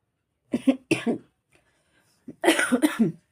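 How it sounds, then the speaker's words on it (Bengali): A person coughs loudly and close by in two bursts: a pair of harsh coughs, a short quiet pause, then a longer run of several rapid coughs. "এখনো কাশি আমার কমেনি"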